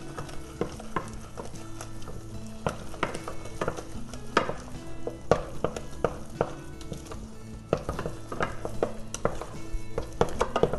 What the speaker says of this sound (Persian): آرد رو یک جا اضافه میکنم و شروع میکنم به هم زدن